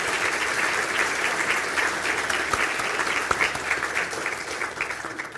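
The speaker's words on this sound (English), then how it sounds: "to stand for a well-earned round of applause" Graduates at a university conferring ceremony in Galway receive a sustained round of applause: a full hall of hands clapping loudly and evenly throughout, with a few sharper claps standing out and the sound thinning slightly toward the end.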